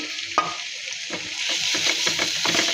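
Dried loitta fish curry with chopped coriander leaves is stirred in a pan, a soft sizzle running underneath and a sharp knock near the start, followed by steady scraping strokes.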